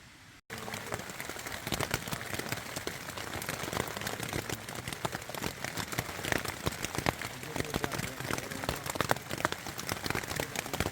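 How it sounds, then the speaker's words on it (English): Steady rain patters on a surface in the 100 Mile Wilderness on the Appalachian Trail, dense crackling drops close by, continuous and even throughout. "It's been raining all night."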